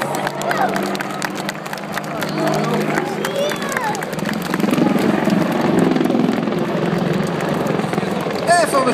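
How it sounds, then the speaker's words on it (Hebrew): Israeli Air Force Saraf helicopters fly past at an air show, a steady rotor and engine rumble that grows louder midway, with crowd noise and a loudspeaker announcer speaking over it. "גבירותיי ורבותיי, מסוקי השרף."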